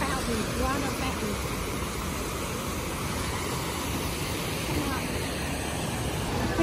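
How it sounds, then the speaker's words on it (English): Waterfall at a casino resort, a steady broadband rush of falling water filling the space throughout, loud and continuous, with crowd murmur and voices mixed underneath. "Look at that, how beautiful that waterfall."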